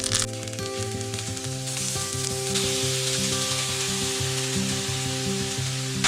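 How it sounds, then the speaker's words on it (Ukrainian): Raw shrimp sizzle in melted butter in a pan, a steady crackling fry running throughout with a low humming tone underneath. "Я розтопила вершкове масло ось на сковорідці і буду обсмажувати тут е, креветки."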